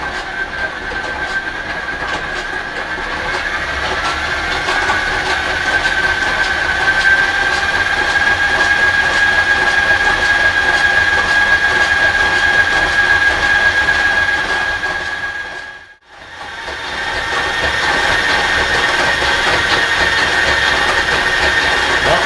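A wheel scrapes against its rim in a continuous grinding rasp with a thin, steady squeal on top, loud and close, briefly dropping out before resuming unchanged.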